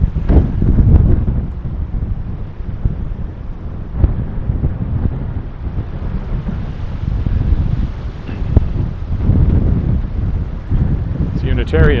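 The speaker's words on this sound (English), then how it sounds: "Breezy here again by the tall building." Strong wind buffets the microphone beside a tall building, a loud continuous low roar with gusting swells throughout.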